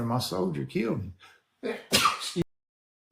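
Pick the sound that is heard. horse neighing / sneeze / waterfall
sneeze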